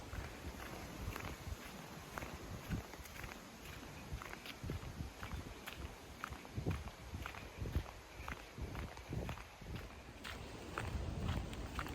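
Footsteps of a person walking outdoors on a hot, very windy day in Melbourne, a steady, quiet stride repeating for about twelve seconds under faint wind noise.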